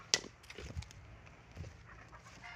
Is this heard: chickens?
yes